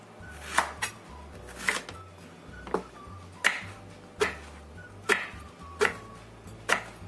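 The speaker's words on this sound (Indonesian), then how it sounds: "Kemudian kita potong." A knife chops through chayote on a cutting board in sharp, evenly spaced strokes, about nine crisp thuds over seven seconds. Each cut is distinct against a quiet background, with no speech.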